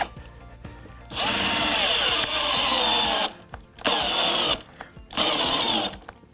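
Three bursts of a power drill whirring at high speed as it drives screws through pilot holes into pallet timber, each lasting about a second or two and separated by short pauses, loud and close.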